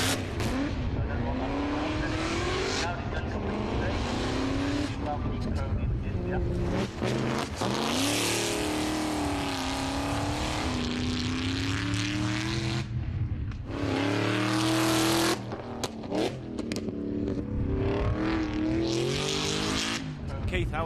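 A 400 horsepower rear-wheel drive race car at the Race Retro event revs and accelerates loudly, its engine note rising and falling through gear changes with brief lulls and possible tire squeal, while voices talk over it.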